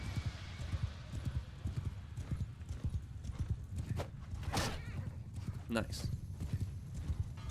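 Horses gallop with rapid, steady clip-clop hoofbeats in a medieval battle in the video game Mount and Blade II: Bannerlord. A whinny is heard partway through, and someone talks briefly over the hooves.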